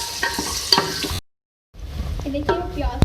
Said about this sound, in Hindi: ये देखिए हम प्याज को फ्राई कर रहे हैं ऑयल में